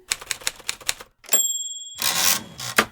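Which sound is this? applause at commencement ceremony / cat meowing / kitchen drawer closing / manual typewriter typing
manual typewriter typing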